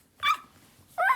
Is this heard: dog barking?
yes